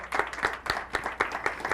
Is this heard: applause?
yes